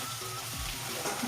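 Onions and chillies sizzle in a pan, a soft steady frying hiss throughout the short moment, with a light stir or scrape in the middle.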